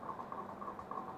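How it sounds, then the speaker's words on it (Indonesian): Rain falls at night outdoors at a village cooking spot, a faint, steady pattering of drops with no voices. "Hari hujan, teman-teman."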